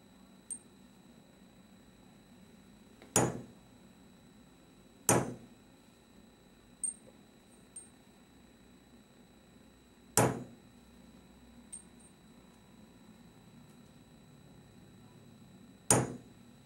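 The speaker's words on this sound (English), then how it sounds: "position it on the paper, and hit it with the hammer" A hammer striking a metal letter stamp onto a metal tag: four sharp, ringing metallic blows spaced several seconds apart, each with a quick decay, plus a couple of faint light taps in between, in a quiet room with no talking.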